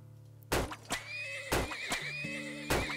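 Horses in the Turmoil video game neigh in several sharp, loud whinnies spread across a few seconds, with soft hoof clip-clop between them over a quiet musical background.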